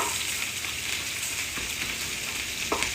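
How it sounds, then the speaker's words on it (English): Tilapia fillets frying in hot oil, a steady broadband sizzle with soft crackling pops scattered throughout, close and continuous with no talking. "our oil is starting to get golden around the edges on our fish"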